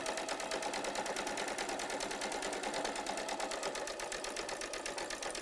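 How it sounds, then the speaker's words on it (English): A sewing machine stitching a quarter-inch quilt seam, running steadily at speed with a fast, even mechanical chatter, close up and uninterrupted with no voices. "you'll simply sew a quarter of an inch back down your other side"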